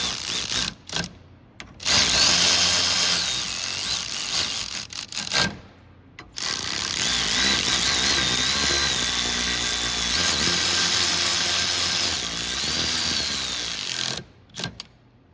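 Power tool tightening bolts on a power steering pump for a 2016 Jeep Wrangler JK 3.6L, with loud, close sustained whirring runs interrupted by brief pauses and ratcheting, with no speech.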